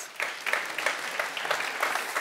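Warm applause from a festival audience fills a short burst of dense, even clapping at moderate volume, with no voices over it.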